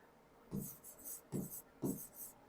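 A marker or chalk moves across a board during a horticulture class. Quiet, steady strokes come in three short clusters, each a soft thump followed by scratchy squeaks.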